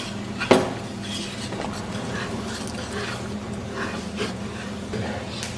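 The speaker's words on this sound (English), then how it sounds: "So I'll just mix until it's smooth." A spoon stirs a thick melted chocolate mixture in a bowl, soft scraping and clinks close by, with one sharper knock early on and a dog faintly whimpering in the background.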